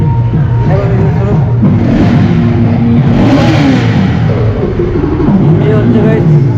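A Bajaj Pulsar 125 motorcycle engine runs loudly and close at a launch event, its revs rising and falling in a continuous drone.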